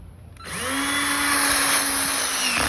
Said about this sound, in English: So let's drill these holes.